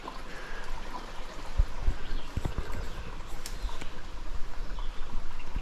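A river flows near an abandoned mine as a steady, close rush of water, with a few scattered knocks and steps over it.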